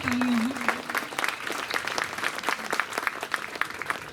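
At a Hindi comedy poetry gathering in Chakradharpur, the audience gives hearty applause, with many hands clapping in a lively, uneven patter.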